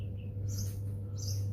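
Worn fan motor bearings in a Samsung split AC indoor unit make a steady low hum with high chirping squeaks that come and go in short bursts, close and fairly faint.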